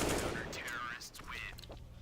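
Rapid automatic gunfire in a Counter-Strike esports match at IEM Cologne 2023, a dense crackling burst running throughout, with excited casters talking over it.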